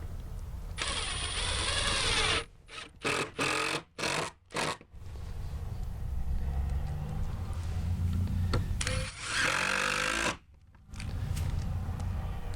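A power drill drives screws to mount hinges on a gate, with long whirring runs broken by a cluster of short, stuttering bursts, then a second sustained run and a brief pause, all close and loud.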